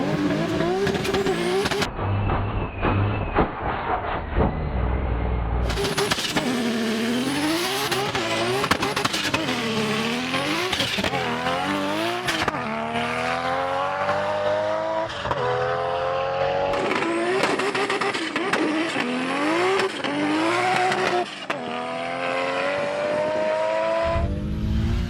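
Nissan GT-R street cars race down a runway at a 2016 GT-R challenge in Australia, with loud engines revving hard and rising through gear changes in repeated sweeps, plus brief tire noise.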